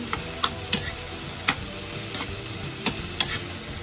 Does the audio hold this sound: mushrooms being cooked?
yes